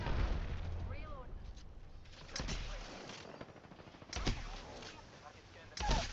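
Video game gunfire crackles in repeated sharp bursts over a constant low game rumble, with a voice speaking through it.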